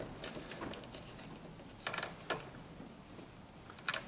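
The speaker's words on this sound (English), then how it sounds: "I keep tightening it till it's super secure." Ratchet wrench clicks while tightening a battery terminal nut on a 2007 Honda Accord, a few sharp mechanical bursts close by over quiet background.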